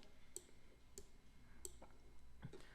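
A computer mouse clicks on a register button in an ERP ordering screen, giving several sharp, faint, isolated clicks spaced out over quiet room tone.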